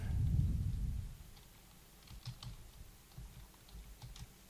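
Computer keyboard typing in a quiet room, a sparse run of soft, irregular key clicks after a brief low rumble at the start; no talking.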